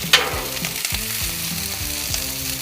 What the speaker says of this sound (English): We'll put these on the grill here and grill them up, roast them up